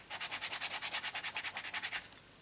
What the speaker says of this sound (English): I'm going to give that a burnish.